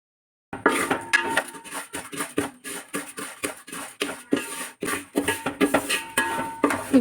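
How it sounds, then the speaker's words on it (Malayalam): Semiya vermicelli being stirred and roasted in a pan for payasam, a continuous close scraping and clinking of a spoon against the metal with rhythmic strokes and no talking. "നമുക്ക് ഒരു ഗോൾഡൻ ബ്രൗൺ കളറാവുന്നത് വരെ നിർത്താതെ ഇളക്കിക്കൊണ്ടിരിക്കാം"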